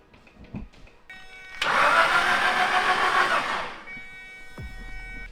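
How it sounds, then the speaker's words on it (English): A Nissan 240SX SR20 engine cranks over without spark plugs for about two seconds with a steady whirring drone that never catches, preceded and followed by quiet clicks and shuffling. "we want to crank this thing without the spark plugs in it"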